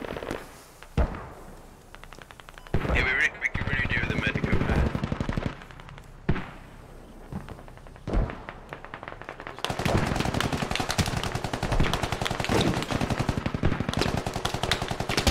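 Gunfire in the Squad video game aimed at vehicle tires: bursts of rapid automatic shots and single cracks, then dense sustained firing toward the end, loud and close, with brief voices between.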